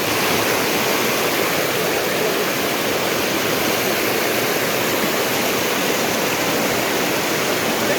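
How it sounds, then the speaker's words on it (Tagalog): Strong river current rushes loudly and steadily, a dense unbroken roar of flowing water heard up close with no other sounds standing out. "Lakas ng agos."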